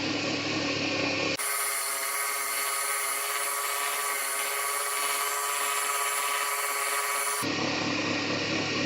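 A segmented fountain pen blank sanded at 1000 grit, likely while spinning on a lathe, giving a steady close whirring hum with a constant soft hiss of fine abrasive and no voices.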